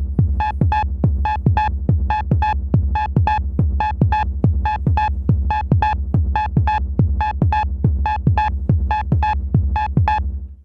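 A modular synth patch built from Make Noise Maths and a Moog DFAM plays a steady, evenly spaced pulse of deep bass thumps with bright metallic overtones, looping loud and alone at a techno-like tempo.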